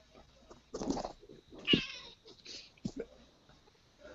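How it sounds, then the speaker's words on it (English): A house cat meows several times in short, separate calls. The meows sound close but fairly quiet, with short pauses between them and no talking over them. "That's my cat."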